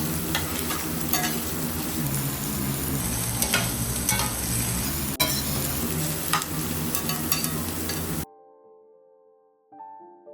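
Onion, garlic and ground spices sizzle and fry in a wok for a salmon curry, a loud steady hiss with stirring scrapes close by, cutting off abruptly into near silence near the end.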